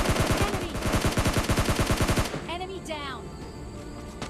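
Rapid automatic gunfire in the video game PUBG Mobile Lite rattles loud and close for about two seconds, then stops, leaving a voice talking over quieter game sounds.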